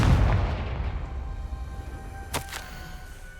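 Confringo blasting spell explosion in the Hogwarts Legacy video game: a sharp booming blast that fades out, followed by a brief crackling burst, with no talk.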